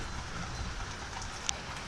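Steady rain pours during Hurricane Ian, a constant dense hiss holding at even loudness throughout with one brief sharp tick near the end, and no voices.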